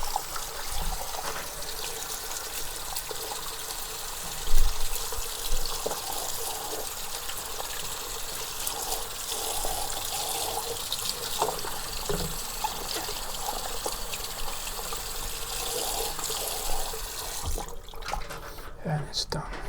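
Running water trickles and splashes steadily over a plastic Eheim Experience 250 aquarium filter part being rinsed under a tap, with a voice talking intermittently over the flow.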